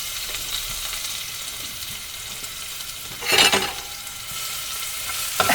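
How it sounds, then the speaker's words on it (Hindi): Jakhiya seeds crackle in hot oil in a pan for a Garhwali aloo thichodi, with a steady high sizzle and a sharper burst of spitting as garlic goes in, close and alone. "अब इसमें हम थोड़ा सा जखिया डाल लेते हैं। अब देखिए ये पॉपअप करने लगा है।"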